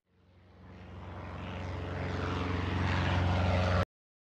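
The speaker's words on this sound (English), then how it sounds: "Aeroplane." Propeller aeroplane engine drones steadily, growing louder as it approaches over about four seconds, then cuts off abruptly.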